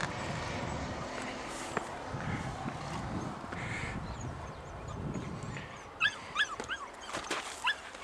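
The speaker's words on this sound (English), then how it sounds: "Okay, you hear them fussing." Young lion hounds fussing at a rocky ravine, with whines and yelps out in the open, faint rustling and movement at first, then sharper barks and whimpers bunching toward the end.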